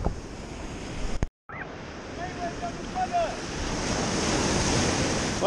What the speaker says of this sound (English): You roll right into those waves.